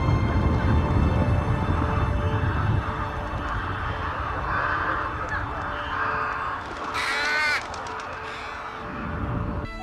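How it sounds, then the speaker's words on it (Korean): Crows caw and cry over a busy street in a grim plague-era setting, their calls mixed into dense background noise and rumble, with a brighter burst of harsher calls near the end. "거리에는 배부르게 살이 오른 까마귀들의 행복한 울음만 울려 퍼졌죠"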